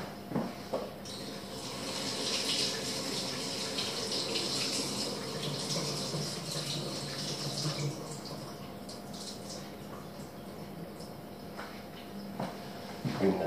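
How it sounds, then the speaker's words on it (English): Tap water runs steadily into a kitchen sink while a picked spider crab is rinsed under it, a continuous moderate splash lasting several seconds with light clatter at the start and end. "I'll take this to the sink and just give it a quick rinse."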